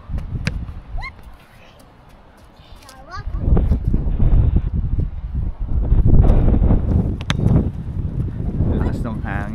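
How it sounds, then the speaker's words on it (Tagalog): Strong wind buffets the microphone in loud, rumbling gusts, with faint voices in the background. "Lakas ng hangin"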